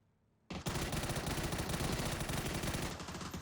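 Bursts of rapid automatic gunfire in the battle royale video game PUBG erupt after a brief quiet moment and continue densely to the end, loud and without speech.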